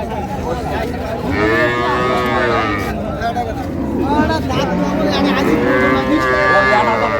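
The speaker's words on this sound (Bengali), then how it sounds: "মাঝারি সাইজের যে গাভী বাছুরগুলো কিনছেন আমরা সেই গরুগুলো তথ্য দেব" Dairy cows and calves at the Raniganj cattle market in Dinajpur moo in several long, drawn-out calls close by, while people talk underneath.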